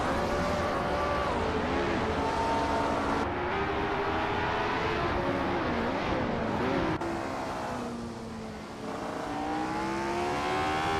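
Race cars in an AI car racing video game, engines whining and rising and falling in pitch as they accelerate and pass, a continuous moderately loud roar with no talk.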